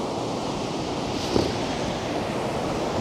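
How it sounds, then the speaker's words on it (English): Strong outdoor wind buffets the microphone in a steady, rumbling roar with one brief gust-like bump midway; no one speaks. "I hope you guys do not get bothered by the wind."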